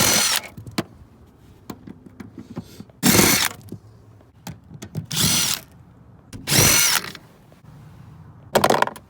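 A power drill or impact tool removes the seat bolts in a Toyota Tacoma TRD Sport, with four loud whirring bursts of a few seconds each, separated by quieter clicks and handling noises close by.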